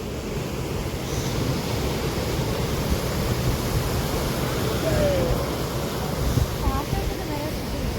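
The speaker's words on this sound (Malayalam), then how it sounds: "ബീച്ചിൽ കടൽക്ഷോഭം എന്നൊക്കെ വേണമെങ്കിൽ പറയാം" Continuous roar of rough surf washing onto Kovalam Beach, steady and loud throughout with a few faint crow-like bird calls near the end.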